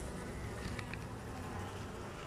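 Honeybees buzz steadily inside a queen introduction cage, a continuous low droning hum held at an even level throughout with no voices.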